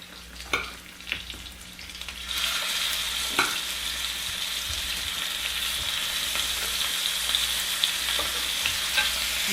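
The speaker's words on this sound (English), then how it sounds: "You can hear the sizzle going there." Pork pieces browning in a hot pan give a steady, close sizzle and crackle that swells after a quiet start, with occasional stirring clicks and scrapes and no talk.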